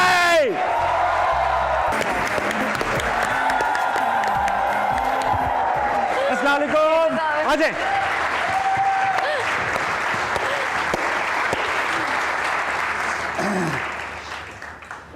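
A studio audience on a Pakistani comedy talk show claps loudly and cheers to welcome a guest. The dense applause holds steady for most of the stretch and thins out near the end, with a voice offering a greeting over it.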